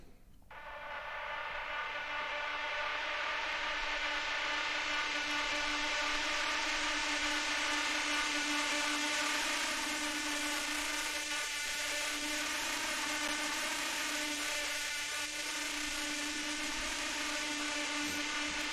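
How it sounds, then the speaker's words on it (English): A distorted drone sample from a Splice pack swells in over the first second and then holds as a dense, buzzing, harmonically rich tone, gritty and sustained with slight wavering throughout. "Just like a little distorted drony thing"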